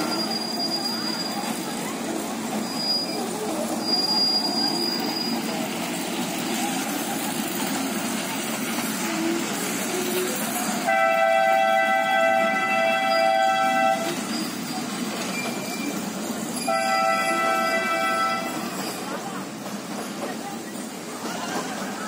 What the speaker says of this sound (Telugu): చూసారా టాయ్ ట్రైన్ భలే ఉంది కదా